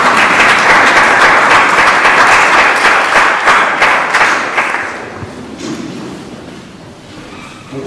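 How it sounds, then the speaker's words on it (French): A church congregation claps together in dense, loud, close applause that holds steady for several seconds before gradually thinning and fading toward quiet. "Nous acclamons pour la parole du Seigneur."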